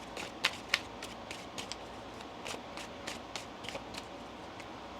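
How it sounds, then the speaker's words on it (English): A deck of tarot cards being shuffled during a reading, soft riffling and crisp card snaps with a couple of sharper clicks, quiet and close against a faint room hiss. "One more shuffle."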